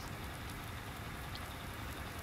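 Steady rain from Farming Simulator 19, a broadband hiss falling continuously over a rural map with grass fields, even and moderately loud with a low rumble beneath and no voices.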